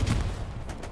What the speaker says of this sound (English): Nice tank round.